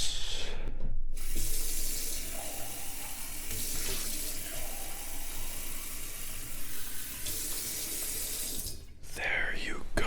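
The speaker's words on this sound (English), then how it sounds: "I'm getting a glass of water for you as well." A water tap runs into a glass at night, a close, steady hissing stream that flows for several seconds between short pauses, with soft whispering around it.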